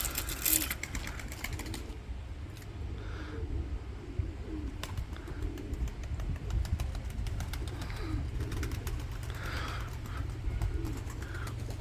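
Pigeons coo softly amid steady low rumbling background noise, with occasional flutters and faint chirps.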